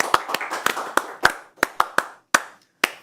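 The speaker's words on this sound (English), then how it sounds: "So I shall clap for Mr." One person claps slowly and deliberately, about a dozen sharp, close claps with uneven gaps that grow sparser toward the end, no voices over them.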